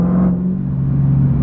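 Dodge Challenger Hellcat fitted with AFE Race Connection Pipes, its supercharged engine holding a steady, loud, close exhaust drone that swells slightly as the throttle opens.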